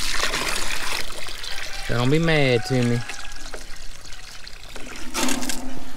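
Water is poured out for farm animals in a barnyard, a steady pouring splash of a few seconds beneath someone talking nearby, with a brief softer trickle afterward.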